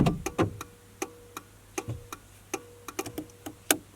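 Hazard light relay in a car ticking steadily, a clean close click repeating roughly every half second with no voices.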